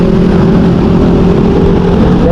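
A motorcycle engine revs hard on a road trip along Marilaque, a steady loud mechanical drone with a strong low hum that runs unbroken for a couple of seconds, close to the rider.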